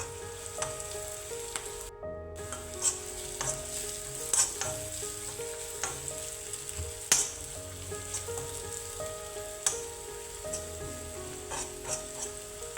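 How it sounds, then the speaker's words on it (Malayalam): A teaspoon of chilli powder sautés with sliced potato in an oiled pan for Kerala-style mezhukkupuratti, giving an even sizzle under scattered spatula clicks and scrapes, close and fairly soft, no voices. "ഇതുകൂടി ഇട്ട് നന്നായി ഒന്നും കൂടി വഴറ്റിയെടുക്കാം"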